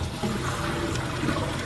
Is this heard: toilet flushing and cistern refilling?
yes